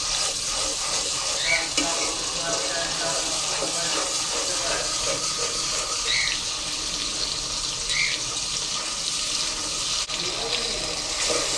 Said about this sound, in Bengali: এখন আদা রসুনগুলি পেঁয়াজের সাথে মিশিয়ে নিচ্ছি, মানে বেশ কিছুক্ষণ একটু কষিয়ে নিতে হবে।